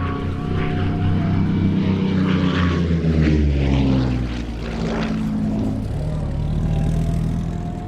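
Several Spitfire propeller aircraft holding before takeoff, their piston engines running together in a loud, steady, throbbing drone with slowly shifting pitch, close by and continuous.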